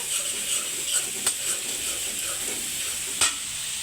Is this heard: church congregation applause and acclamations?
no